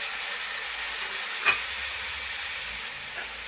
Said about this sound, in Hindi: ये जो मैंने 4 टमाटर काटे थे ये डाल रहा हूँ।